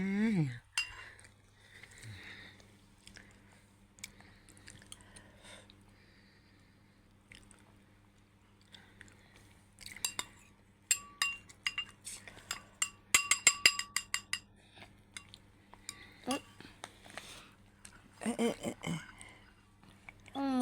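A meal with scattered cutlery clinks on plates and bursts of chewing and biting, mostly quiet between sharp clustered clatters, with a brief voice near the start.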